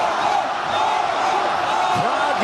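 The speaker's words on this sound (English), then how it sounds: "Crowd getting loud" A fight crowd roars in a dense, continuous wash of voices, loud and sustained, with commentators talking over it.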